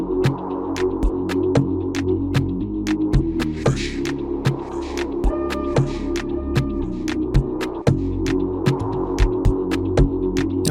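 Amapiano beat intro built in FL Studio, with a steady synth bass throbbing low under crisp, regular shaker ticks and sparse percussion hits, loud and continuous with no voice.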